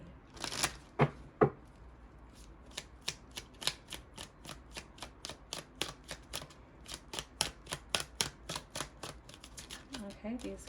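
Tarot cards shuffled in a long, quick run of crisp, evenly spaced flicks, close and clear, after a brief burst of speech at the start and a little more at the end.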